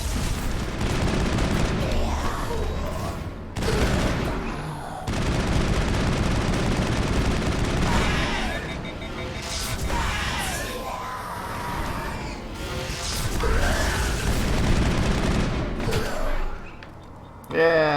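Video game gunfire from Mass Effect: bursts of automatic shots and booms in repeated volleys with short gaps, a player talking over the firing now and then.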